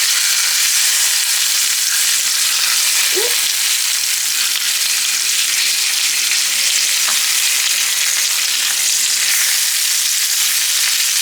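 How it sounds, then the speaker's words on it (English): A salmon fillet, cooking for honey butter garlic salmon, sizzles loudly and steadily in a hot pan after being flipped, with a brief scrape near the start and no voices. "my fish has been in here for 4 minutes. So I'm gonna go ahead and flip it."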